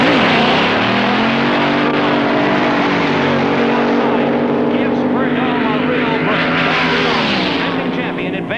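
Top fuel dragsters at a 1966 drag race roar loudly and steadily, a dense engine drone that stays up close and heavy for the whole stretch while an announcer speaks over it.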